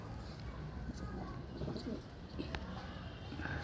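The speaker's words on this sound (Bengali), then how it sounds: "এইবার একটা আন্ধ্রা পায়রা দেখাচ্ছি, দেখুন বন্ধুরা, নর পায়রা।" A male pigeon of a high-flying breed coos softly and repeatedly, close by, over low steady background noise.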